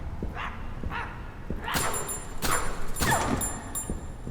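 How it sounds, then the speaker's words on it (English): A dog in the horror game My Friendly Neighborhood gives several sharp barks and yips at mid distance, spaced irregularly over a few seconds with soft thuds in between. "I hear another dog or something around here"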